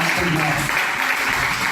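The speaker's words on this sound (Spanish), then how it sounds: "Dale un fuerte, pero fuerte aplauso" Church congregation applauding after a prayer in a Spanish-language worship service, a steady dense wash of many hands clapping with voices mixed in, loud and continuous throughout.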